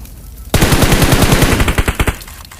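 A long rapid burst of automatic gunfire from a bot in the video game PUBG Mobile, loud and close, with evenly spaced shots for about two seconds after a quiet start.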